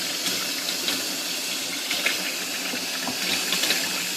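A Panda portable washing machine fills with water in an RV, a steady hissing rush of water pouring into the drum with small irregular splashes throughout.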